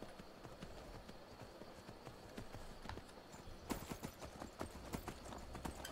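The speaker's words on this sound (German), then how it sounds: "Ich mag es, auf dem Pferdchen zu reiten." Horse hooves clip-clopping as a rider travels on horseback through the Skyrim video game, a steady trotting rhythm that turns louder and busier partway through, with no talking over it.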